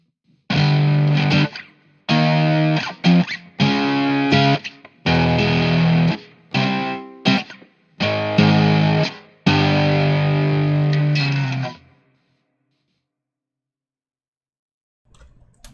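Electric guitar played through Amplitube and HyBrit effects and panned hard left and right: loud, distorted chords in short sustained bursts with brief gaps, ending in silence.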